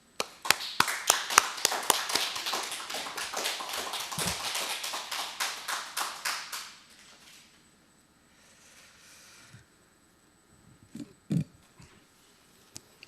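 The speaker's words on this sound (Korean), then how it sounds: "박수로 맞이하겠습니다." A small audience at an invited-speaker lecture gives a welcoming round of applause, sparse and fairly close, fading after about seven seconds into near quiet with a few scattered knocks and shuffles.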